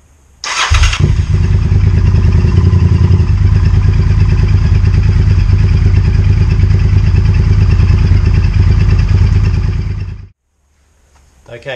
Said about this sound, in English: So I'm just going to start the bike, let it run, let the oil circulate,